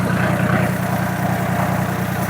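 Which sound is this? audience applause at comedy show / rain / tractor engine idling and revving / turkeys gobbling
tractor engine idling and revving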